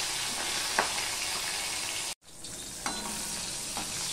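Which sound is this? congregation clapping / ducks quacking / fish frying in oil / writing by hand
fish frying in oil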